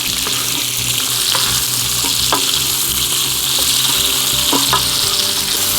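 Potatoes fry loudly in rendered pork belly fat, a dense close sizzle punctuated by several scraping stirs of a utensil against the pan, with no voices.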